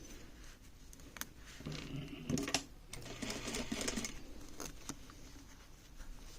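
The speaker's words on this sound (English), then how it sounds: "And now we have to sew it." Sewing machine stitching the strap lining of a wedding dress, a quiet close rapid pattering with brief pauses and small handling knocks.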